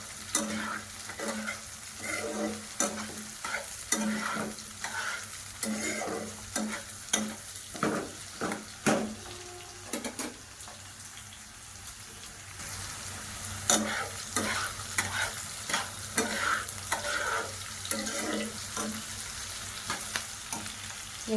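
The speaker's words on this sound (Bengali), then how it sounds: "এখন আমি কেটে রাখা টমেটোগুলো অ্যাড করে দিচ্ছি। দিয়ে আবারও আমি ভেজে নিচ্ছি।" Chopped tomatoes frying in a pan for vegetable fried rice, a steady sizzle with rhythmic scraping and stirring strokes of a spatula close up.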